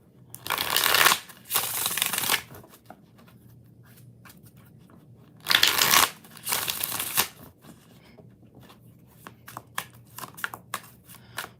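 Tarot cards are shuffled in two loud riffling bursts a few seconds apart, each with quick crisp flutters, followed by softer handling rustles and taps.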